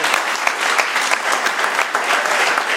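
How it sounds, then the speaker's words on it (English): A room full of people at an AA meeting in a church hall claps in thanks to volunteers, a dense steady round of applause at constant loudness with no voices. "everybody please give a round of applause to Annette and Brett"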